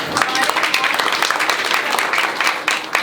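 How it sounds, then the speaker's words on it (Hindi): An audience at a hospital health-campaign event claps to welcome guests, a brisk, fairly dense round of applause at moderate distance, with a voice speaking faintly over parts of it. "तो एक बार जोरदार तालियों से स्वागत किया जाए"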